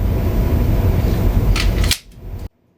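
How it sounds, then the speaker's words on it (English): A magazine ejects from an FNS-9c or Springfield XD Mod.2 pistol: a couple of sharp metallic clicks over steady room noise, followed by a brief rattle before the sound cuts off. "Now, I thought you might like to see a mag ejection demo."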